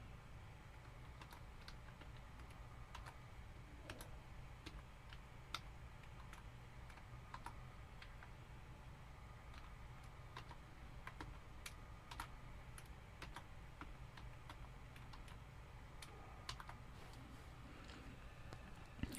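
Someone types a password on a computer keyboard, a run of soft, irregular key clicks at close range over a quiet room hum, with no talking.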